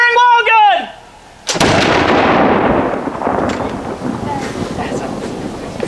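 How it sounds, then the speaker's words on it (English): A wall gun fires at a fort's artillery demonstration, one sharp loud report followed by a long rumbling decay and wind noise, preceded by a shouted command. "Firing wall gun!"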